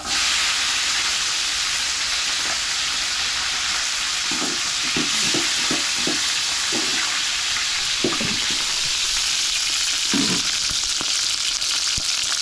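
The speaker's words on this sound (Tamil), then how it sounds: "எண்ணெய் சூடாயிட்டே வெந்தயம் சேர்த்துக்கிறேன்." Fenugreek seeds, green chillies and curry leaves fry in hot oil, a loud, constant hissing sizzle broken by scattered crackles and pops, with no talking.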